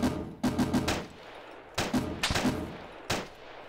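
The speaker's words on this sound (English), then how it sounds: "Is that you boys shooting, yeah?" Gunfire in the military video game Arma 3 during a tower siege: several sharp reports, some in quick doubles and triples, separated by short quiet gaps, moderately loud with a faint echoing tail.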